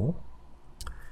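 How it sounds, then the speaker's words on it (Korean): A single computer mouse click presses a write button on a web page, crisp and close after a brief murmur, in a quiet room. "쓰기 버튼을 누르고"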